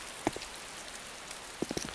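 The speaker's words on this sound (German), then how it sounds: "Plus den Regen, der wahrscheinlich noch geräuschdämpfend ist, ist es hier ideal." Rain falling in the video game Arma II: Operation Arrowhead DayZ, a soft steady wash with a few sharper drop-like taps near the start and toward the end, fairly quiet and with no talking.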